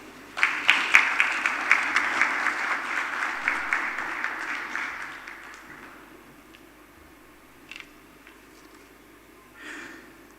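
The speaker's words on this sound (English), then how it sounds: "Another round of applause for Arusalam Fasika, the country manager for" Audience applause at an African Development Bank women's finance event in Ghana, fairly loud with distinct rhythmic claps at first, thinning and fading out after about five seconds, followed by near silence with faint stray sounds.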